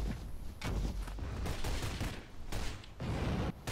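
Gunfire in the Shadow Complex video game, loud bursts of rapid shots in several clusters with brief gaps between them, heard alone without talk.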